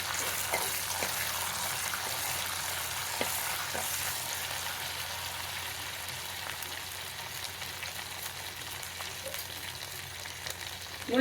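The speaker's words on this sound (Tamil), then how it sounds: "ரெண்டு கொத்து கருவேப்பிலை, பூண்டு இந்த எண்ணெயில் வசங்கி வரத்துல வாசம் நல்லா இருக்கும்." Two sprigs of curry leaves and garlic fry in oil in a clay pot for fish curry, giving a steady, close, crackling sizzle throughout with occasional soft stirring clicks and no voices.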